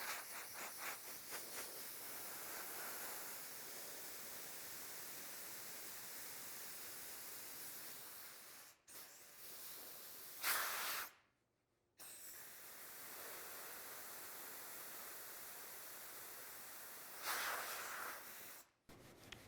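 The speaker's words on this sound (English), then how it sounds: "So we're going to cool this off with some compressed air" Compressed air hisses steadily from a nozzle to cool freshly applied body filler on a repair spot, a broad close rush that runs continuously with a few short pauses and bursts.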